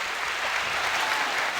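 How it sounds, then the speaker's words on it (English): A steady burst of hand-clapping applause, dense and continuous for its whole short length, with no voices over it. "We gotta give a hand clap for that."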